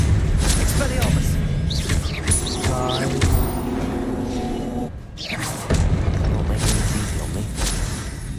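Expelliarmus spell blasts from Hogwarts Legacy thump and boom several times at close range, under a player's voice that shouts and talks throughout.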